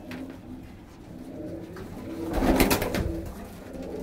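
Punjabi Malwai pigeons cooing in low, throaty murmurs, swelling louder near the middle with a burst of wing flutter and rustling.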